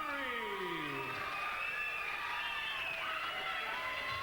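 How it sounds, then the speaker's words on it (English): A crowd at a combat-sports fight roars and cheers for fighter Tim Dury, a continuous loud wash of shouting with whistles and high voices layered over the noise. "Fantastic round of applause here for Tim Dury, Hammer."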